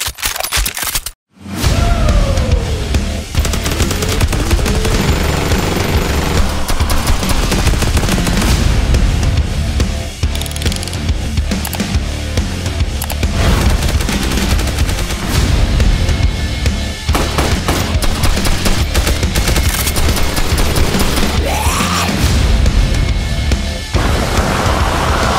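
Relentless gunfire from many guns in Ultimate Zombie Defense 2, a dense wall of loud, overlapping shots and explosions that runs almost without a break after a brief dropout near the start.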